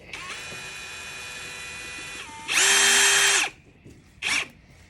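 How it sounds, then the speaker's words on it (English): Power drill whining at a steady pitch as it bores holes into an airbed structure, followed by a louder, higher burst and then a short final spurt, close and alone. "Drilling holes into different parts of the bed so that we can have even airflow throughout"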